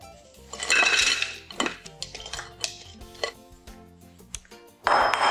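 Frozen vegetables are poured into a crock pot, rattling and clinking against the pot in bright bursts with scattered lighter clicks between, close and fairly quiet.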